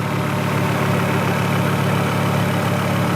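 A warmed-up Volvo 850 engine idling, a steady, smooth low hum and rumble heard close and loud throughout, with no talking.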